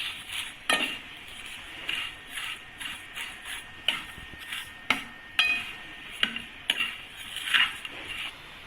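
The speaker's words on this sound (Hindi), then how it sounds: "ये तकरीबन 200 ग्राम मेरे पास सवैयाँ हैं जो मैं इसके अंदर फ्राई करूँगी" Vermicelli being fried and stirred in a pot for sheer kurma, a soft sizzle under repeated sharp scrapes and clinks of a metal spoon against the pot, at an uneven rhythm close by.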